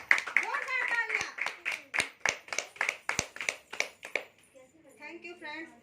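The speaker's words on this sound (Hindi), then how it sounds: "फ्रेंड्स, जोरदार तालियां" An audience claps in a rhythmic series of distinct strikes at a women's empowerment program, fairly close and loud at first, then a voice speaking as the clapping fades out.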